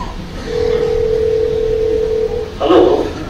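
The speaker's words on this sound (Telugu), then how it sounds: "మా అన్నయ్య కాల్ చేస్తా." A phone call to a brother, with a steady ringback tone that lasts about two seconds and is followed by a brief burst of sound on the line.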